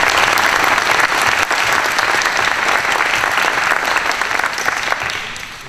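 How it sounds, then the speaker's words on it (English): Audience applause fills a city candidate debate in Roswell in 2013, a loud, dense and steady clapping from a crowd that holds throughout and begins to taper off at the very end. "Please give them a round of applause for putting on this event."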